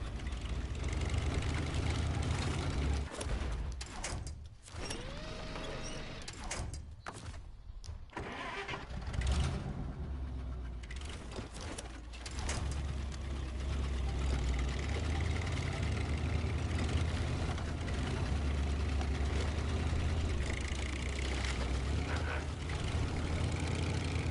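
The Dearborn Model H in SnowRunner rumbles steadily with a mid-pitched engine drone, pulsing as it revs and settling into a continuous driving hum throughout.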